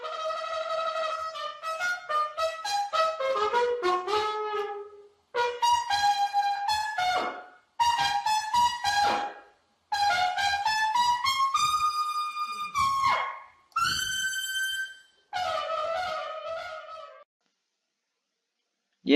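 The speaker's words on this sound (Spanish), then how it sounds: "uno de los ejemplos más representativos es la trompeta," A trumpet plays a sequence of clear, bright sustained notes and short melodic phrases, loud and alone with brief pauses between them, ending in silence.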